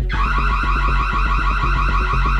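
An alarm in a hospital sounds continuously, a loud electronic tone with a rapid pulsing rhythm that runs unbroken from start to finish.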